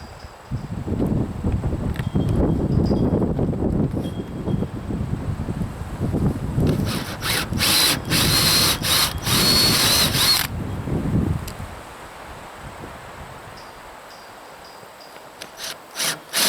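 A power drill fitted with a drill stop bores into material at an off-grid homestead. It gives several seconds of grinding, rubbing and ratcheting with a louder, brighter burst midway. Then it stops, leaving quiet background and a few faint knocks.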